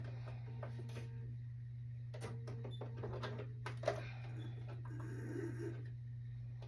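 Sewing machine stitching lining and face fabric around a dress neckline, a quiet steady motor hum running throughout with soft clicks and light fabric handling over it.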